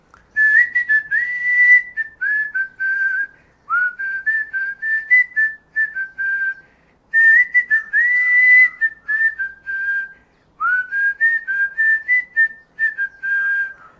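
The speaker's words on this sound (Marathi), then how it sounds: "मी म्हटलं मी शिट्टी वाजवतोय." A single person whistles a film tune from Dhoom Dhadaka, a bright, clear melody in four long phrases with brief pauses between them, close and solo with no talking.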